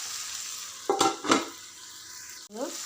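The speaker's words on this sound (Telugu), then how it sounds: "కర్రీ ఒక మూడు నాలుగు నిమిషాలు మగ్గనివ్వాలి" Potato masala curry cooking in a pan, a low steady simmering hiss broken by a few quick stirring scrapes and a brief clatter, close and alone without talk.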